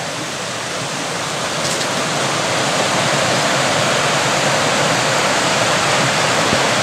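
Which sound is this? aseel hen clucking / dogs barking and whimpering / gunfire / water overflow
water overflow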